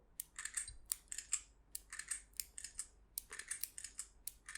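Magnetic pop-up shoulder triggers on a Black Shark 4 gaming phone snapping open, a run of quick, close crisp clicks and slides in irregular bursts, faint and alone without talk.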